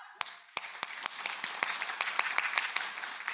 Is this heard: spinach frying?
no